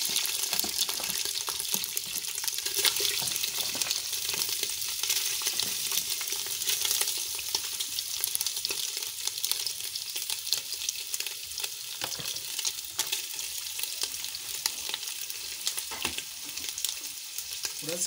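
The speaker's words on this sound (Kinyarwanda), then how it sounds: "Amavuta yacu rero yahiye, tugiye gushyiramo inyama kugira ngo nazo tuzikarange." Meat sizzles steadily in hot oil in a pot, cooked with green bananas, giving a dense, continuous hiss and crackle that holds close and even throughout with no talk over it.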